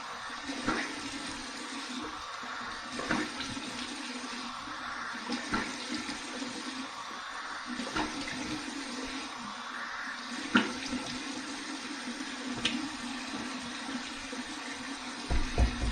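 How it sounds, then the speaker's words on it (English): Cold water runs steadily from a bathroom tap into a sink for a post-shave face rinse, a continuous close splashing stream with small bursts of splatter throughout. "Here's my cold water rinse."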